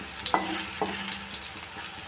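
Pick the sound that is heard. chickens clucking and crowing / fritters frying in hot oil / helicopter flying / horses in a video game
fritters frying in hot oil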